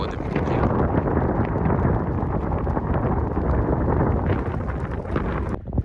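Strong wind buffets the microphone on a boat out at sea, a loud, continuous low roar with gusting rumble throughout, and a voice can be heard briefly over it.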